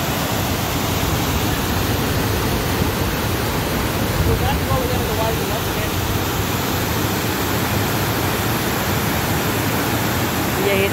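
A waterfall roars in a steady, dense rush of falling water, loud and unbroken throughout with no pauses or distinct splashes.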